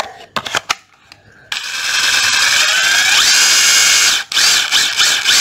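A brushless Hilti or Makita cordless drill spins up after a few clicks and handling knocks, then runs loud and steady with a smooth high whine, dipping briefly near the end before continuing.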